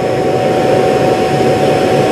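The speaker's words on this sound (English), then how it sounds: "it turned on the vacuum in the base station to empty out the dustbin inside the vacuum" A Roborock Q Revo robot vacuum's base station runs its suction to empty the robot's dustbin, giving a steady, loud, close whirring hum with a constant tone and no breaks for the full length.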